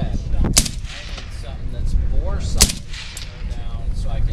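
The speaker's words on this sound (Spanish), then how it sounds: "Voy a dispararlo." Gunshots ring out at the Big Sandy shooting event in Arizona, two sharp loud cracks about two seconds apart over a rumbling outdoor background with distant firing and faint voices.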